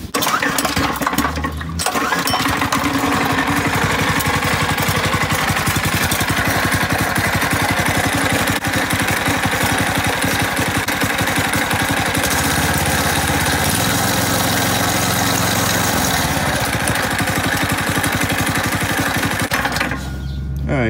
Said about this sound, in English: Now I'm going to try and start the engine.